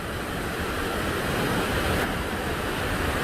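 Steady, loud rush of water pouring through a natural rock bridge near Takakkaw Falls, a continuous roaring hiss with no pauses.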